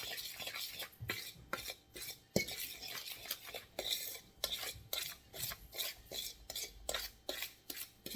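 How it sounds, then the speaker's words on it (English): A fork stirs and scrapes through tamale pie filling in a baking dish, making repeated close scratchy clinks against the dish in an uneven rhythm, with no talking. "take a fork here and kind of mix it up a little"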